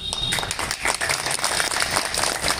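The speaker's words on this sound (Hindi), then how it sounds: "ताली बजा लीजिए।" Audience clapping at an RSS meeting in Gangapol, Jaipur, a dense burst of handclaps lasting a couple of seconds, steady and fairly loud, with a voice faintly mixed in.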